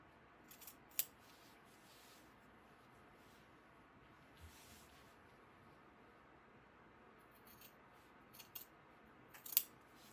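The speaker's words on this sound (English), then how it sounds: "So now I'm going to go ahead and I'm going to cut these squares out." Scissors snip through two layers of fabric squares, placed right sides together, while trimming pieces for a boxed-bottom knitting bag. A few sharp, quiet cuts are scattered across an otherwise hushed room.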